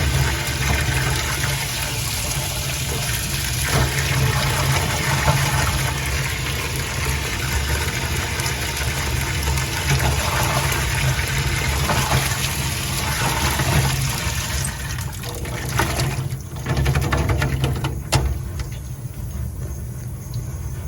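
Running water rinses NOCO Genius trickle charger clamps after vinegar cleaning of battery corrosion, a steady broadband splashing and trickling stream that holds for about twenty seconds, with clattering handling near the end.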